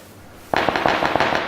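After a brief quiet, a rapid burst of gunfire erupts in PUBG, sharp repeated shots cracking in quick succession until the end.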